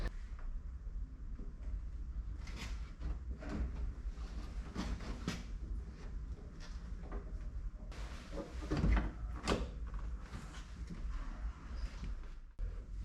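Door panel of a VW Golf V being refitted after an electric rear window mechanism repair, with a run of close, sharp plastic clicks, knocks and snaps in uneven bursts and a louder clunk near the end, no talk.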